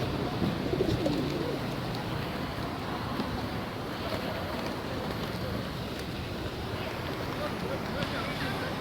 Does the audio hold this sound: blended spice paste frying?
no